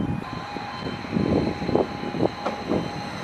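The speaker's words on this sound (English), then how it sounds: "Time for the train to take us away to Halesworth." A train, unit 755421, rumbles and hums as it pulls away on the East Suffolk Line toward Halesworth, with rhythmic low thumps from the wheels and a steady tonal whine above.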